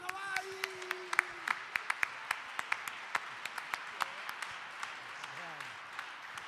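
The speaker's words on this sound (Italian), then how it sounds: "Applauso, vai!" Audience applause at an Italian awards ceremony for a band, scattered distinct hand claps in a loose rhythm, moderately near, with a voice speaking over it.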